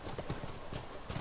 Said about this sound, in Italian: Ma che cavalli intelligenti.